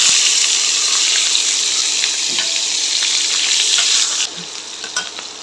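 Chopped onions and green chillies frying in soybean oil for khichuri, a loud steady sizzle with scraping stirs that drops in level near the end.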